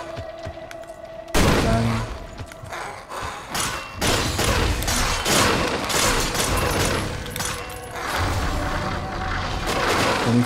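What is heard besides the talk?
shooting at a big enemy in the video game Victor Vran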